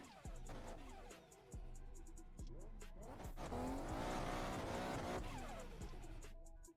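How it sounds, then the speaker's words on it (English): Car drifting sideways in a sim racing video game: a revving engine rises and falls in pitch over repeated bursts of tire squeal, steady and fairly close throughout. "I gotta swing a lot to get some momentum and kind of get the car slightly sideways."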